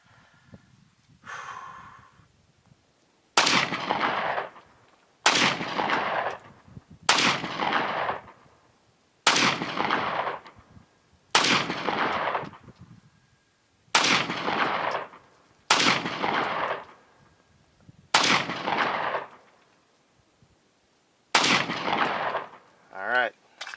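Nine sharp, loud gunshots from a 300AAC or 9mm firearm loaded with cast zinc bullets ring out one at a time at intervals of about two seconds, each crack followed by a short decaying echo.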